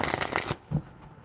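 Tarot cards shuffled by hand at close range, a quick papery riffle that stops abruptly, then a soft single tap of the deck.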